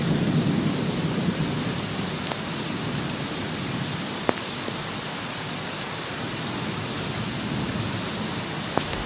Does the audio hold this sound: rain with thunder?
yes